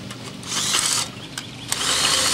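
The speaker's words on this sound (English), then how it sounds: "And hello, drill again." A power drill whirs in short bursts while a camper is raised, starting and stopping a few times at close range with rubbing and handling noise between runs.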